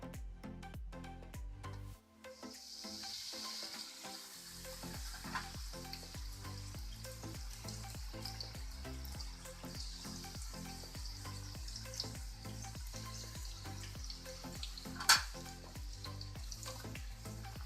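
Strips of samosa pastry frying in hot oil to make papdi; a steady, close sizzle and crackle runs throughout, with a brief dip early on and an occasional sharper spit, no talking.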